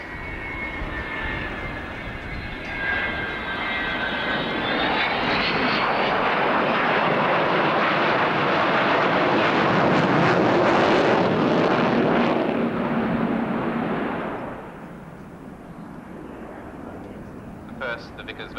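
Vickers Valiant V-bomber jet flying past at an RAF Abingdon airshow, a loud broad engine roar swelling as it passes close overhead, rising in pitch early on, then fading into distance while a voice talks over it.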